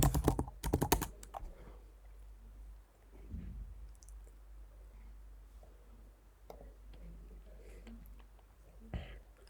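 Keys clatter on a computer keyboard while an email address and password are entered, a dense burst of clicks up front easing into sparse, quieter taps over a low steady hum.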